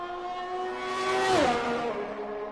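A Formula 1 car on a flying lap at Bahrain in F1 2021, its high-pitched engine screaming steadily, then rising and sweeping down sharply as it passes close by, with no talk.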